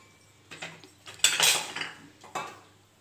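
Wheat flour halva in a pan being stirred as sugar syrup goes in, with a few clinking scrapes of a spoon against the pan that build into one louder burst of clatter midway before easing off, close up with no talking.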